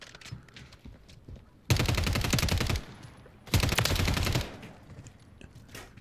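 Two sustained bursts of rapid automatic fire from the Superi weapon in a first-person shooter game, each about a second long and loud, separated by a quieter gap.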